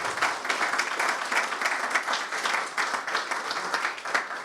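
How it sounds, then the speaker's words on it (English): Audience applause after a panel discussion on marine identity in Portaferry, a steady wash of many hands clapping, fairly close and sustained throughout without talk over it. "Can we have a round of applause for our speakers and our moderator, Moira?"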